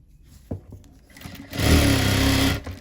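A sewing machine stitches a blouse seam in a short steady run lasting about a second, loud and close, after a few soft clicks and a thump.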